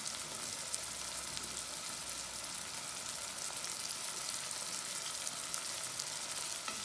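Potatoes with tomato cooking in a pan for a Moroccan-style potato dish, giving a steady, even sizzle and crackle of frying that stays constant throughout with no voices.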